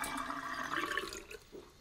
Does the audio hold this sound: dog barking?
no